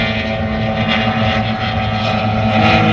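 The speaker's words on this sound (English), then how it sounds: "Here's our first S-Class boat coming through." An S-Class powerboat races past during a round-the-island powerboat race, its loud engine roaring close and steady for three seconds, with wind buffeting the microphone.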